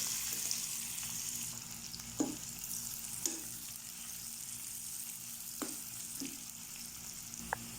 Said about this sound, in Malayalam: ഒരു സവാളയുടെ പകുതി അരിഞ്ഞത് അതും കൂടെ വറുത്ത്